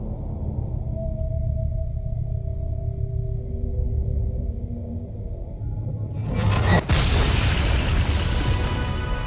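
A monster in Monster Hunter World unleashes a fire area attack, with a low rumbling drone building before a sudden loud explosive blast that erupts into a sustained roaring burst of noise.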